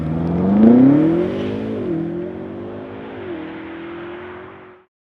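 A BMW M5 launches hard on a quiet road, its engine revving up loudly and close with rising pitch through a gear change or two, then fading as it pulls away, with no talk over it.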